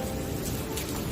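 Steady rain falls during a storm in the Uttarakhand hills, a dense, even hiss of drops pattering on surfaces, close and continuous with no voices.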